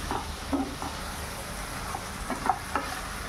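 Capsicum and potato stir-frying in a pan over high flame: a steady, quiet sizzle with a few soft clinks and scrapes of stirring. No one speaks.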